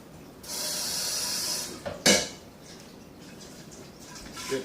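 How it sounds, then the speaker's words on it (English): Water sprayed from a hose or sprayer to rinse leftover yeast out of a homebrew fermentation container for a coffee-style beer, a steady hiss lasting about a second, then a short sharp splash burst and quieter clatter. "I'm going to hit it with a little bit of water."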